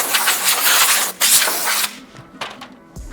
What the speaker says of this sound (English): Best way to do that is with a basic air gun.